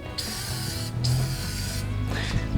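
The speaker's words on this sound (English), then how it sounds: "spray it all over the headlights" A continuous hissing spray of car care product onto bug-covered car headlights, close and steady for most of the stretch, with brief pauses as the nozzle is released and pressed again.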